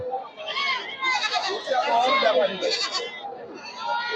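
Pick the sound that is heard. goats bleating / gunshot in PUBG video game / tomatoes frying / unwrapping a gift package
goats bleating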